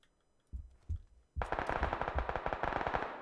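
Two squads trading fire in the shooter game PUBG, heard from a distance: a couple of isolated shots, then a sustained rapid automatic burst, moderately quiet.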